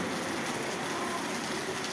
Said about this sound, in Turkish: Her geçen saniyede dakikada e, şiddetini arttıran bir yağmur var.